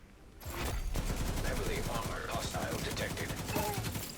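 Rapid gunfire from a video game shooter, with dense bursts of loud, close shots that crackle almost without pause for several seconds.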